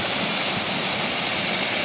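Chereres Waterfall in Kericho, Kenya, a natural waterfall, roars as a dense, steady broadband rush that stays loud and unbroken throughout, with no voices over it.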